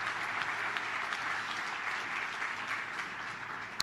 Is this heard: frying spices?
no